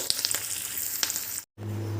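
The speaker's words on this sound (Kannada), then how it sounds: "ಸ್ವಲ್ಪ ಒಂದು ಚಿಟಿಕೆ ಹಿಂಗು ಜಸ್ಟ್ ಒಂದೆರಡು ಹಾಕ್ಕೊಳ್ಳಿ ಒಂದು ಮೆಣಸಿನ್ಕಾಯಿ ಇಷ್ಟೇ ಫ್ರೆಂಡ್ಸ್ ಒಗ್ಗರಣೆ ರೆಡಿ ಆಯಿತು" A pinch of asafoetida and a red chilli crackle in hot oil as a tempering for jackfruit seed sambar, giving a close, bright sizzle with small pops before a sudden cut to a low steady hum.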